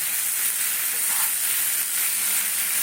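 Hot butter sizzles and fries steadily in a pan with button mushrooms, a continuous close crackling hiss with no voices.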